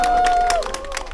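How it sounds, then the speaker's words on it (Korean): Brief burst of clapping from a crowd gathered for a barefoot-walking event on the clay path at Gwanggyo Lake Park in Suwon, dense and steady against a thin sustained tone before easing off. "우리 이원수 노인님 또 박수 한번 부탁드리겠습니다"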